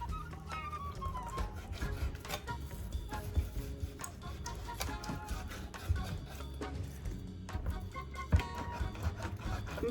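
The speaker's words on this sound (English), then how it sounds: "I'm gonna start chopping it up" Dense, irregular knocks and scraping clatter of a knife chopping on a board, steady and close, with no talking.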